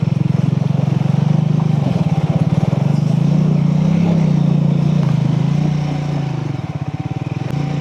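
An off-road vehicle crosses a river near the Odisha–Andhra border, its engine droning loud and close throughout with sputtering, churning sounds as it pushes through the water, easing off near the end.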